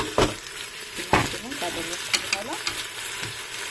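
Ground tomato fries with kabsa spices, Maggi cube and white spice in a pan, giving a moderate sizzle with a few stirring knocks and scrapes, close and clear.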